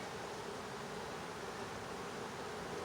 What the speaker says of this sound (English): just a bunch of bees doing their thing